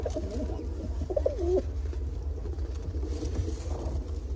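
Pigeons on a Turkish breeding farm coo in a soft rolling burst near the start, close and moderately loud over a steady low hum, then fade to quieter murmurs.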